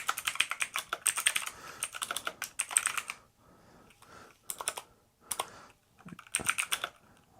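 Rapid keystrokes clatter on a keyboard used with a Supernote Manta in uneven bursts with short pauses between them, close and fairly quiet.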